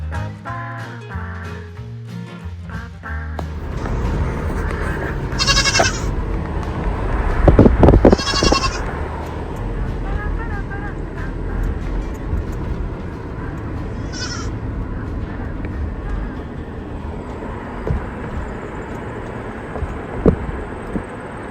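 Goats bleat on a Maine farm, with a few loud calls standing out from a busy outdoor background of rumble and clatter.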